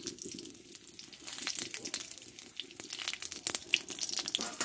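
Two dried red chilies, a bay leaf and a few whole cumin seeds frying in a little oil, giving a steady crackling sizzle with scattered sharp pops, close and fairly soft.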